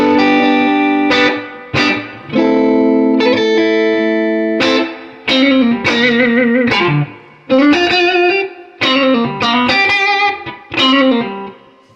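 Electric guitar played through a warm Fender Super Reverb tube amp with no boost pedal, sustained chords and short melodic phrases with pauses between them, loud and close, with a touch of reverb.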